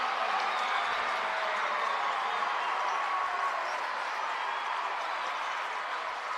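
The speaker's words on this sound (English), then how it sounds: "this Governors crowd is getting excited as their team is on top" A home crowd at a high school state championship football game between the Yankton Bucks and Pierre Governors cheers after a touchdown, a steady dense wash of distant voices and applause lasting throughout.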